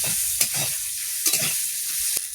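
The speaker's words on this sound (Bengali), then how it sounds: "আমগুলো একটু লবণ হলুদ দিয়ে ভেজে নেবো।" Mango pieces frying in a pan with salt and turmeric: a continuous close sizzle broken by a few quick scraping stirs of the spatula.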